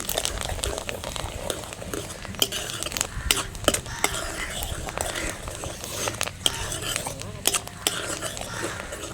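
Dried red chillies being stirred in a large pan of hot oil for a coriander pickle tempering, with a metal spoon scraping and clinking against the vessel amid a steady crackling sizzle, in irregular close bursts.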